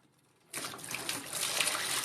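Water from an aquascape aquarium being siphoned out during a water change, a steady trickling, splashing flow that starts abruptly after a brief quiet moment and continues close and fairly loud.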